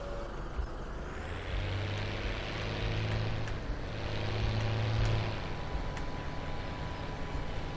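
A tractor engine in Farming Simulator 17 drones steadily, with a low rumble rising and falling slightly as it runs close up.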